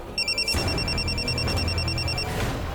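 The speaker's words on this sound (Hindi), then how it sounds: "आमीन, तुम मेरा फोन कट क्यों कर रही हो? कब से फोन कर रहा हूँ तुम्हें।" A phone rings with a repeated electronic trill in several bursts, fairly close, over a low background rumble.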